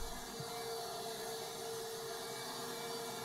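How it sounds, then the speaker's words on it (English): A wet vacuum cleaner sucks up water from a flooded floor, giving a faint, steady whining drone with a constant tone throughout. "It's a vacuum cleaner for water."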